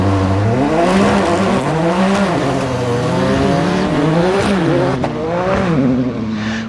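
A heavily modified Nissan GT-R hillclimb car accelerates hard, its loud engine note climbing through rising harmonics with brief dips at gear changes, sustained and close throughout with no talking.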